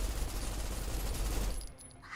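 Rapid gunfire rattles in a continuous dense fusillade in the video game Snowbreak, then cuts off abruptly, leaving quieter game sounds.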